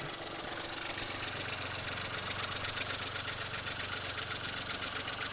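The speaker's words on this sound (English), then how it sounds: "so a little bit of a slower startup" A warm Chevrolet Sprint Turbo engine settles into a steady, rough idle, a close, even mechanical chug with a faint rhythmic knock, with no talk.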